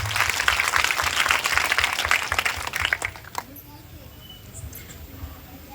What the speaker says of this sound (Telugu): అందరూ ఒకసారి చేతులు పైకి గట్టిగా చప్పట్లు కూడా వేస్తున్నాం.